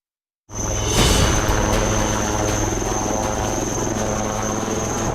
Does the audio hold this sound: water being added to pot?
no